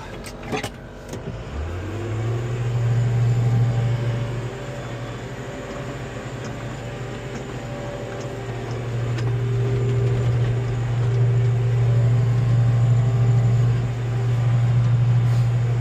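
A swather engine starts and ramps up to a steady loud drone as the machine is driven off a trailer before swathing oats, a continuous close hum that rises slightly in the second half, with no voices.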